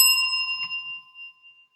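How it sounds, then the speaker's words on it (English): A small bell rung on a comedy stage gives one bright ding that rings out and fades over under two seconds. "I have a bell."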